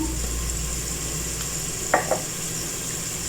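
Garlic and onion frying in a pan for kadhi pakora, a quiet steady sizzle with a couple of brief scraping stirs as spices go in, close and continuous, with no talking.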